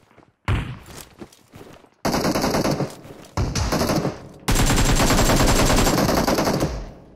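Bursts of AK rifle gunfire from a first-person shooter video game, several loud rapid volleys separated by short pauses, ending in one long sustained burst.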